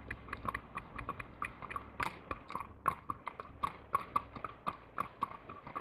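Hooves of a horse clip-clop at a steady walking rhythm, close and fairly quiet, each footfall a distinct sharp knock with no voices.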